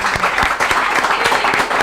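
Audience applause at a school competition show, a dense steady clatter of many hands clapping close and loud for the full two seconds, with sharp individual claps standing out.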